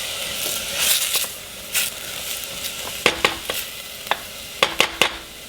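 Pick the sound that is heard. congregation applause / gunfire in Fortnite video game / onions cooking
onions cooking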